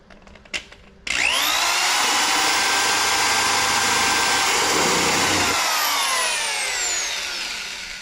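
A drill press whirs as it bores holes in a part for a 1970 Monte Carlo, starting abruptly after a couple of clicks and running loud and steady before the pitch eases as it winds down.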